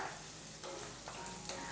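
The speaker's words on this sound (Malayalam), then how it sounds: "പച്ചമുളകും ചേർത്ത് കൊടുത്ത ശേഷം നല്ല രീതിയിൽ തന്നെ വീണ്ടും ഒന്ന് വഴറ്റി കൊടുക്കുകയാണ്" Six green chillies sauté in a pan for a Kerala-style gooseberry (nellikka) pickle, giving a soft, steady sizzle with faint stirring scrapes. It sounds quiet and close, with no voices.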